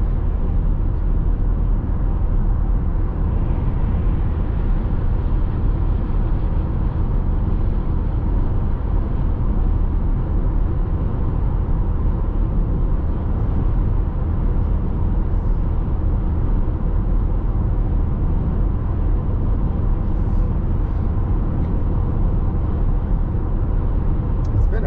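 A car cruising on a highway between Ogden and Brigham City, Utah, gives off a steady, loud road and engine rumble with tire noise that runs unbroken the whole time, and no voices cut in.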